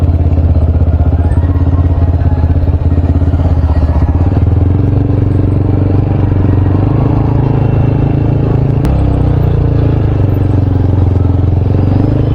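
A group of fifteen to twenty motorcycles rides together, a steady droning engine hum with low rumble, close and continuous, with occasional clatter and no talking.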